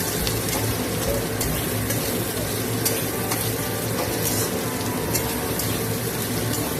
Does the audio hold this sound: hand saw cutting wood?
no